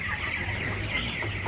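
A flock of broiler chickens clucks and murmurs steadily in a poultry house, a dense continuous chatter of many birds close by with no speech.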